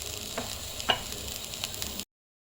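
Broad beans frying in a pan with spice powder, a quiet steady sizzle with a few soft clicks and scrapes from stirring, no talk, cutting off abruptly near the end.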